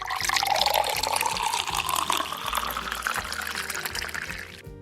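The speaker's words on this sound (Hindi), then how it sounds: "आइए थोड़ा साफ पानी डालते हैं।" Clean water pours steadily into a container, a continuous close splashing and gurgling stream with rising fill tone that stops near the end, no voices.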